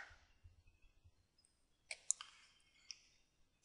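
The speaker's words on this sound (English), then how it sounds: "Left click." A computer mouse gives a few soft, close clicks, faint and sparse against near silence, with a low murmur at the start.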